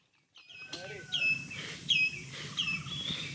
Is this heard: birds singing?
yes